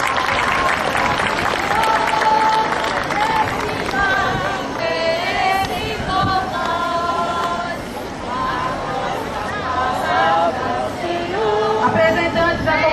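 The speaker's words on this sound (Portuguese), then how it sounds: "Uma salva de palmas ao texto da Santa Chaves" Church audience applause at a parish Bible walk, steady clapping sustained throughout with music and crowd murmur underneath.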